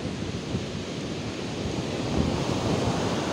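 Strong sea waves driven by a typhoon surge and splash over a coastal road in Tanza, a continuous loud roar of churning water and wind with no talk.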